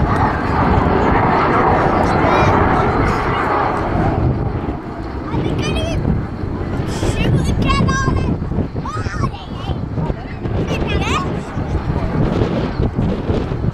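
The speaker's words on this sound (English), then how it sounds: "The only Mark 52 jet Provost still flying today." A Jet Provost Mark 52 jet trainer, the light ground-attack export version, flying a display at the RAF Cosford Air Show 2017, a loud sustained engine roar that dips midway and surges again, with a commentator speaking over it.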